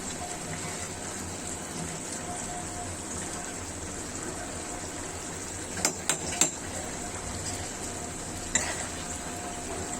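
Boiled chickpeas cooked with cabbage are stirred and mashed in a pan, a faint continuous sizzle and scrape with a few brief clinks of the utensil.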